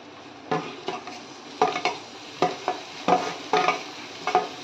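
Chopped tomato tossed into onion and green chili frying in a pan for egg bhurji, heard as repeated stirring knocks and scrapes over a low sizzle, close and moderately loud with no talking.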